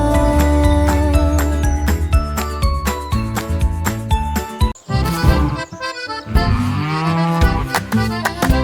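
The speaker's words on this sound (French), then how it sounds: "les vaches ont commencé à meugler" Farmyard cow moos ring out within a bouncy French nursery rhyme for children, layered over continuous loud music with singing and instruments throughout.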